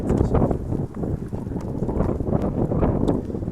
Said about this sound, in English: the wind blowing a little bit